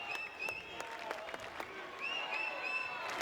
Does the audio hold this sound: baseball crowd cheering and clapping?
yes